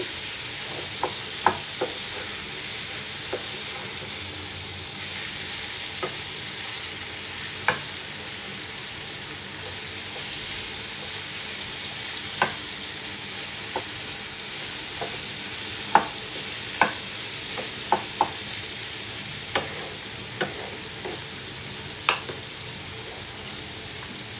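Onions sauté in a pan over steady heat, giving a soft continuous sizzle broken by frequent sharp spatula taps and scrapes against the metal, close by and without talk.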